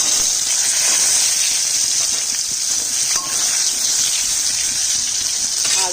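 Dried red chillies and raw mango pieces hit hot oil with panch phoron, making a loud, continuous hissing sizzle that holds steady throughout with no talk over it.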